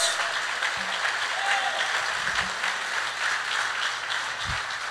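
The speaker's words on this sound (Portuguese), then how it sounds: "Forte esse aplauso da palavra de Deus." Congregation applause in a church during a sermon, a steady, broad wash of clapping filling the room at moderate distance, with a few faint voices underneath.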